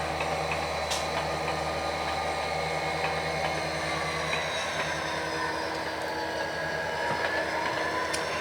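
A model train runs through a yard, steady rumbling with a continuous mechanical whir and faint squeals, constant in level throughout, no talking.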